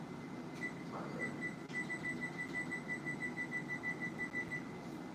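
A kitchen timer goes off during cake baking, beeping in a rapid, repeated pattern of high tones that runs steadily for several seconds over low background noise, with no voices.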